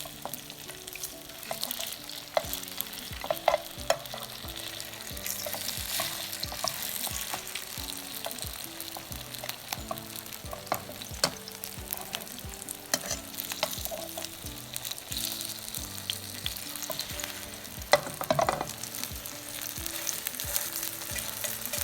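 Sweet and spicy rice cake skewers sizzle steadily in a pan for the whole stretch, a dense, even frying crackle with occasional louder pops and scrapes as they are turned, no voices.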